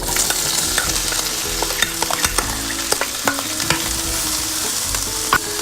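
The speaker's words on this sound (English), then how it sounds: "Put about a teaspoon of olive oil in the pan and add the vegetables." Vegetables sautéing in olive oil in a skillet, a loud continuous sizzle broken by frequent scraping and clacking of a spoon stirring them around the pan.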